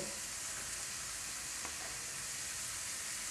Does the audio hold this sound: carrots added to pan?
yes